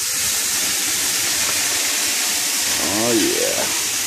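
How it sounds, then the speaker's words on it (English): Water splashes onto hot sauna rocks, setting off a loud, steady steam hiss throughout, with a brief gurgling burst near the end. "Alright, time to splash the rocks."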